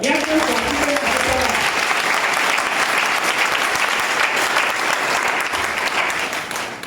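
A church congregation breaks into sustained, loud applause that fills the room evenly for several seconds, with a few voices briefly audible at the start.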